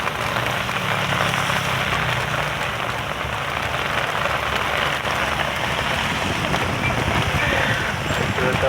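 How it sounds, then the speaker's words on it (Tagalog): Heavy rain pelting a vehicle during a flood, a dense, constant hiss and drumming of drops on the surface, loud and unbroken throughout, with faint voices beneath. "Grabe, sobrang lakas ng ulan talaga."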